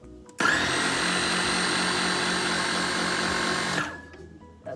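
A food processor whizzes pumpkin pie ingredients in one loud, steady motor burst of about three and a half seconds, then spins down, with no talk over it.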